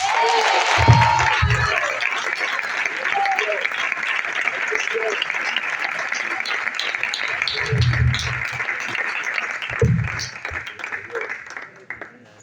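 Congregation applauding during a church service, a long steady stretch of dense clapping with a few low thuds and brief voices rising through it before it tapers off at the end.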